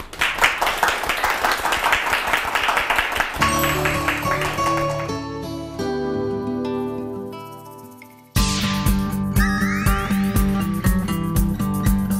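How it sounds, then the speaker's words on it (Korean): Audience applause greets a lecturer at a Korean talk show on youth identity, a loud burst of clapping that fades and gives way to music, then another sharp round of applause. "강연을 큰 박수로 청해보겠습니다"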